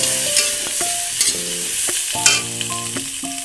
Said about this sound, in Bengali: এবার আমি আদা রসুন বাটা দিয়ে দেবো, দিয়ে কষিয়ে নেবো।